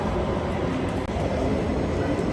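A steady, loud rumbling roar of a train fills the clip without a break.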